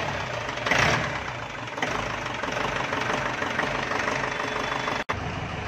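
A diesel engine idles steadily just after a cold start, giving a close, continuous knocking rumble that keeps an even pace throughout, with a brief cut near the end and no talk over it.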